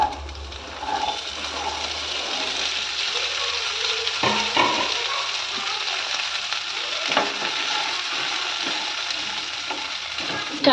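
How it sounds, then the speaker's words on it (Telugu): Chopped French beans sizzle in hot oil after crackling tempering spices, a constant frying hiss broken by occasional sharp scrapes and clicks as the beans are stirred in the pan. "ఈ విధంగా ఆయిల్లో ఒకసారి బీన్స్ని బాగా మిక్స్ చేసుకోవాలి."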